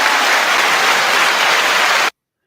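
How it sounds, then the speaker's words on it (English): Applause sound effect from a labeled soundboard button, a dense, loud burst of crowd clapping lasting about two seconds and then cut off abruptly to silence. "the applause was most appropriate for Donna"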